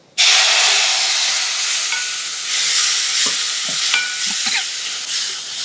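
Water poured into masala sizzling in a kadhai while cooking Maharashtrian brinjal and potato sabzi, giving a sudden loud hiss and steady frying crackle with a few stirring clinks, close and without speech.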